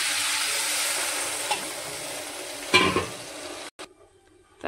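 Fish masala frying in a pan: a steady sizzle and stirring, then a sharp burst of hissing and spitting when water is added, settling again toward the end.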